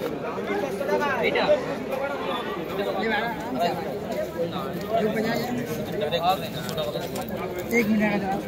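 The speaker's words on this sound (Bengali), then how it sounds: "দেখি ভাই পায়রাটা" Pigeons coo faintly amid the constant chatter and bargaining of a busy Kolkata pigeon market, with people talking throughout over a crowded hubbub.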